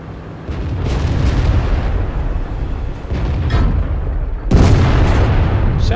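A WZ-111 heavy tank battle in World of Tanks plays out as a steady low engine rumble with muffled booms, then a sharp, loud cannon blast near the end that rolls off into the drone.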